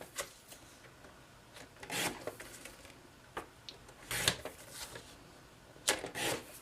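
Sharp cutting strokes through a piece of cardstock paper for a Christmas note card, a few quick rasping bursts with pauses between them, close and fairly quiet, no talking.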